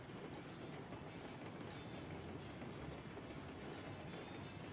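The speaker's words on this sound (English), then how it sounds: "This is theoretically as fast as this train can go because we have not hit the brakes one time coming down this hill" An overloaded train coasting fast down a long grade without braking in Railroads Online, a steady rumbling roll with faint rhythmic wheel clatter, continuous and fairly quiet, with no voices.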